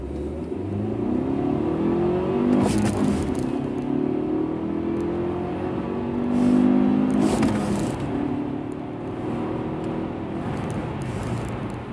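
A Mercedes W211 E200 Kompressor with manual gearbox accelerating hard, engine note climbing and dropping with gear changes, heard steadily from inside the car with no talk.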